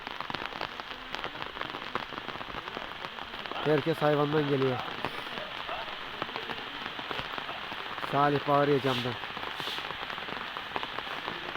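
Sudden steady rain patters down in a continuous hiss, with people talking over it now and then.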